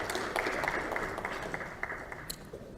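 Audience applause at a Korean party leadership meeting, a steady wash of clapping from a room of people, moderately loud and sustained throughout with no talk over it.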